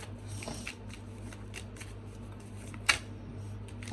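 Tarot cards are shuffled and spread by hand, making soft riffling and sliding, with a sharp snap near the end over a steady low background hum.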